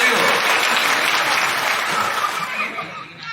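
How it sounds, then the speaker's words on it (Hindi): Audience at a Hindi poetry event breaking into loud, dense applause mixed with some chuckling and crowd murmur, the clapping fading somewhat toward the end. "तालियां होनी चाहिए आपकी"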